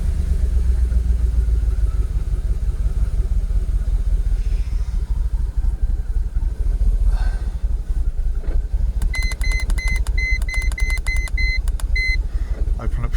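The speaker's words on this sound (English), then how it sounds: "Open up the throttle again," Jaguar XKR X100 engine, running with a restricted performance fault, revved and then idling back down slowly; a steady loud low rumble continues throughout, and a series of short electronic beeps sounds near the end.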